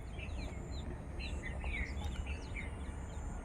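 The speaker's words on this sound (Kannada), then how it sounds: "ಆ ಪಕ್ಷಿಗಳ ಸದ್ದು" Scattered bird chirps and short tweets ring out over a steady low rumble of background noise, fairly faint and continuous.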